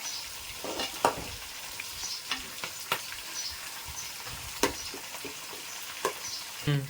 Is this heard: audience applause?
no